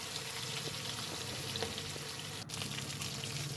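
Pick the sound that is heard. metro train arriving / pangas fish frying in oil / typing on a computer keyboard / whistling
pangas fish frying in oil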